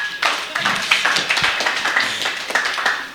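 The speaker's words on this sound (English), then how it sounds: "Applause." Applause at a Kakamega learning-route session: a mix of brisk claps and taps from a small audience, close by and uneven, with a brief tone just before it starts.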